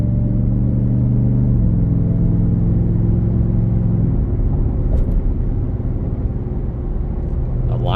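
A 2023 Ford F-150 Raptor R pickup on a test drive gives a steady, loud low engine and road rumble throughout, with a faint shift in pitch partway through.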